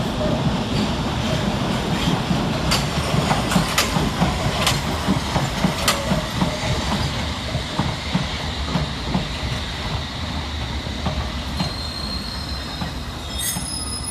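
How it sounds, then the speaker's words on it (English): London Underground S-Stock trains on Metropolitan and Hammersmith & City Line services at Farringdon station, with loud sustained wheel squeal, rumbling running noise and rhythmic clicks over rail joints as trains move through the platform. "Next in and out is S-Stock units 21043 and 21044 with a Metropolitan Line service to Aldgate"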